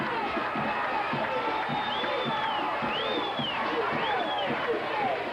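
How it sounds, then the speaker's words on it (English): A high school football crowd at a 1986 Baker vs East Ascension Spartans game chants steadily for defense from the Baker side of the field, a continuous roar of many voices with rising shouts and whoops throughout. "Crowd calling for defense on the Baker side of the field."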